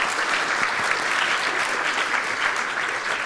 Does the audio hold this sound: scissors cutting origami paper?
no